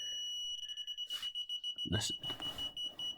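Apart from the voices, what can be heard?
Arduino ultrasonic parking sensor beeping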